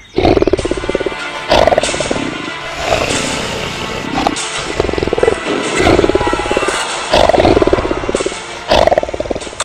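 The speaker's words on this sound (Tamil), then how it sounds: "என்னமோ பேந்தர் சத்தம் கேக்குது" Loud, repeated roars of a panther, several bursts of deep growling roars spread across the clip, close and harsh with no talking.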